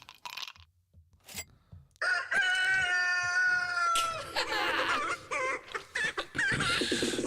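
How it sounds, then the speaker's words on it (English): A chicken clucking and squawking up close in loud, stuttering bursts, with a drawn-out crowing cry, after a moment of quieter noise at the start. "The fucking chicken."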